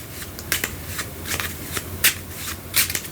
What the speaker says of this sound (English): They can shuffle the stacks.